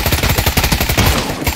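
A fast, loud burst of automatic gunfire in the game Pavlov rattles continuously, shots evenly spaced and close, with no talking.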